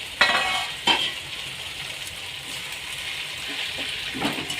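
Roasted, peeled and mashed brinjal being stirred and mixed together for Khandeshi bharit, with wet squelching strokes and a few sharp utensil taps against the pan.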